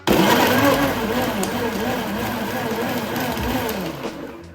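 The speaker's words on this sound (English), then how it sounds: "Then you want to put them in the blender." A kitchen blender blends peeled limes with a little water for a Belizean drink, its motor running as a loud, steady whirring hum with a wavering pitch from start to finish.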